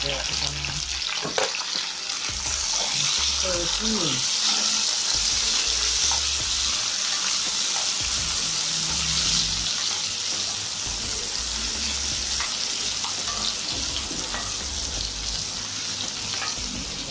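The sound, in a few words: sweet pepper, onion, tomato and garlic frying in a pot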